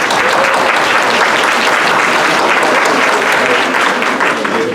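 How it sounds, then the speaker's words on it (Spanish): Dense, steady applause from an audience at a round-table discussion, loud and continuous throughout with no pauses or voices standing out. "Por favor, un aplauso."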